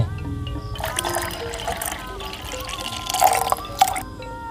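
Coconut water is poured over a pet cricket's coffin at an animal funeral with a gold-gabled crematorium, making light trickling and dripping sounds under voices talking.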